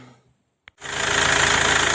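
A Mercedes E-Class 2.2 diesel OM651 engine under repair starts after a brief silence and a click, then runs at a loud, close, steady idle with a rhythmic knocking clatter.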